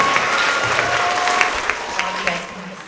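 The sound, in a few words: school assembly audience applauding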